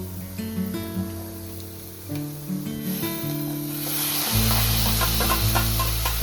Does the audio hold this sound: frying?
yes